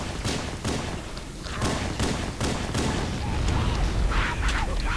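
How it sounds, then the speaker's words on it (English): A series of heavy booming blasts and thuds in quick succession from Halo: Combat Evolved, loud and close, with a dense rumbling background throughout. "Damn, that was a huge explosion."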